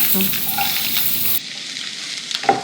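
Onion fries in oil with a loud, dense sizzle that suddenly drops to a quieter hiss, followed by a few clinks of stirring near the end.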